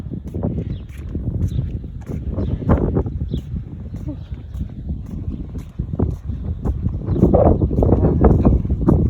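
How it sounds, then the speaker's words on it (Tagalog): Strong wind buffets the microphone in loud, gusty low rumbles throughout, in a vegetable garden, with a person talking over it. "Lakas ng hangin ah."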